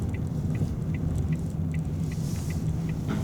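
A car turning into a residential street, its engine and tyre noise a steady close rumble inside the cabin, with faint rattles on top.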